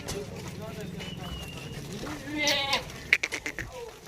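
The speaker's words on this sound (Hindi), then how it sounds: "ये देखो ना बकरे चेक करो, एक से बढ़कर एक वजनी फुल हैवी बकरे हैं।" Goats on a farm raising heavy, large-sized bucks, bleating a few times near the end over a steady background of someone talking and farmyard noise.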